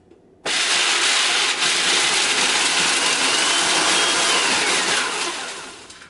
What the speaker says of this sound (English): We're going to put them straight into our blender, and we're going to pulsate them until